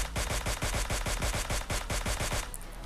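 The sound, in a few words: gunfire in the video game PUBG Mobile Lite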